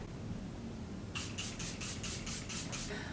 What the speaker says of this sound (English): we're just gonna finish this look with some setting spray